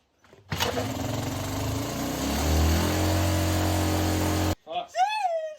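The freshly revived engine of a 1976 Honda CT125 motorcycle runs loudly and steadily for about four seconds, then cuts off abruptly, and a voice exclaims right afterward.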